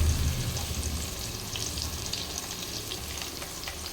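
Green chillies, coriander and mint fry in oil, giving off a steady, close sizzle with a few stirring scrapes and no talk.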